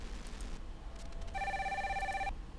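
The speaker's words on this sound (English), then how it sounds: "Ah, we're getting a phone call." Telephone ringing in Spycraft: The Great Game, one clear electronic ring burst lasting about a second over quiet background hum.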